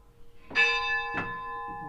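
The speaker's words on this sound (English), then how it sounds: "She's ringing the bell." A locomotive bell on an old steam engine displayed at a lumber museum rings twice, two clear metallic strikes about half a second apart with long ringing tones, close and loud, followed by a faint third tap.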